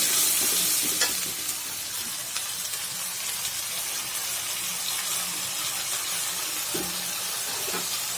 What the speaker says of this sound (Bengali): সুন্দরভাবে মশলাগুলো কষিয়ে নিতে হবে